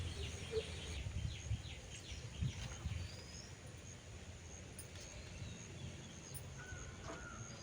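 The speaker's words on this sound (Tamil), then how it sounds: "நம்ம வீடியோவுக்கு இப்போ என்னென்னா காக்கா சவுண்டு கேட்குது" A crow caws a few times in a quiet rural setting near goats, brief harsh calls spaced apart over faint background chirps and insect hum, fairly distant and soft.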